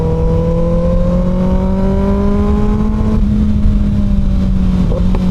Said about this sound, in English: So as those revs are climbing, it is just picking up more and more power as those revs climb up.